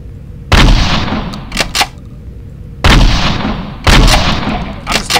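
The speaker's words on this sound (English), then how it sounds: "I'm just taking him on with a shotgun." Shotgun blasts in a survival horror video game: three heavy booming shots, each with a long rumbling tail, separated by a few seconds, with a couple of shorter sharp bangs in between.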